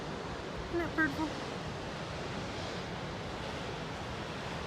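Pacific Ocean surf rolls in as a steady, broadband wash of breaking waves, with a couple of brief faint sounds early on over the continuous roar.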